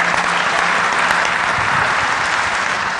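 Sustained applause from an audience at a discussion forum, for the exhibitors, dense clapping at steady loudness throughout, with no voices standing out.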